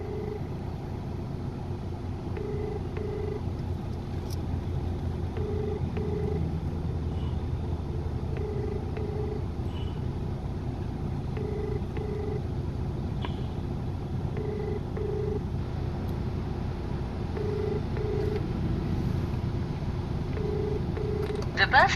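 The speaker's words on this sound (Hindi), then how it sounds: "ये घंटी जा रही है, देखिए रिंग जा रही है।" Outgoing phone call ringing, a repeating pattern of paired ringback tones pulsing at a steady rhythm over a constant low vehicle-like rumble, with no voices standing out.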